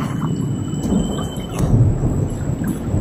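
Heavy rain pours steadily over a flooded forest beside a river, with low rumbles of thunder rolling underneath; a dense, close, continuous wash of sound with no voices.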